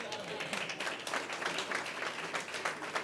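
A political rally audience applauds in a dense, steady wash of clapping that lasts the whole stretch, close and continuous with no break.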